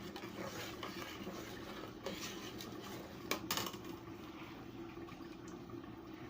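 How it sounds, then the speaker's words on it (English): Ogbono soup is stirred in a pot over low gas heat, a quiet ongoing scrape with a few louder clanks of the utensil against the pot partway through. "I'm going to be stirring until I get my desired thickness."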